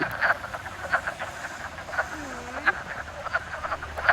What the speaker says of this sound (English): Frog calls are typically just the boy frogs singing at the top of their lungs